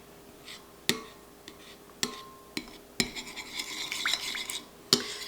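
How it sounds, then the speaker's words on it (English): Melted homemade body butter chunks being stirred in a bowl, sharp clinks of utensil against the bowl followed by a stretch of scraping, rubbing stirring, quiet and close with no talk. "I'm just gonna mix them in here"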